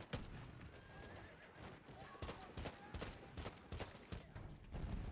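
A horse neighs and gallops in the World War I shooter game Battlefield 1, with loud whinnies and rapid hoofbeats mixed with bursts of gunfire and battlefield clatter.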